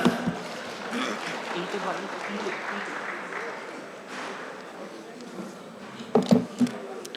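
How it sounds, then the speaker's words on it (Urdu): Audience applause welcoming a speaker at a hotel symposium, a moderate crowd clapping steadily for several seconds, fading near the end as a voice briefly comes in. "جواد احمد گل صاحب، آپ کی بھرپور تالیوں میں"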